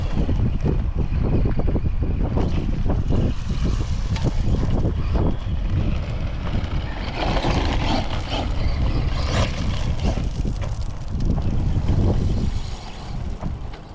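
A Traxxas Rustler 2wd RC car driving across a gravel pile, heard as a loud, continuous rough rumble of motor whine and crunching stones that barely lets up for the whole stretch.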